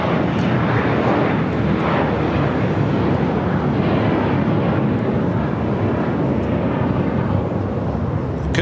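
A China Eastern Boeing 777-300ER airliner at LAX makes a loud, steady broadband jet roar that holds nearly constant throughout, with no talk over it.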